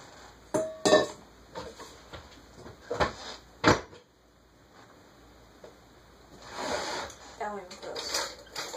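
A mixing bowl taken out in a home kitchen during baking, with scattered clinks, knocks and cupboard-like thumps, close and intermittent, alongside a few rustling handling sounds.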